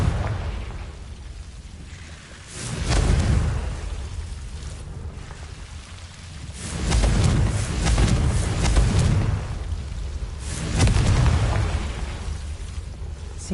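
Fiery explosions from the Confringo spell in the Hogwarts Legacy video game, three loud booming blasts with crackling, rumbling tails, spaced a few seconds apart.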